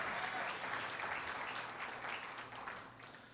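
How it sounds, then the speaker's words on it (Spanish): A church congregation at Iglesia el Shaddai Reynosa applauds, a dense, steady wash of many hands clapping together throughout, fading slightly toward the end. "Dele la ofrenda de aplauso al Señor en el nombre de Jesús."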